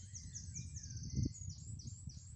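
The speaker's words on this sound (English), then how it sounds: "What type of bird is that? I think it's a blackbird or" Blackbird or mistle thrush singing outdoors at a bushcraft campsite, a run of faint, repeated high whistled phrases over low steady background rumble, distant and soft throughout.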